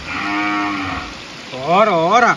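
Two close, loud cow moos, the first long and steady, the second wavering up and down in pitch after a short pause.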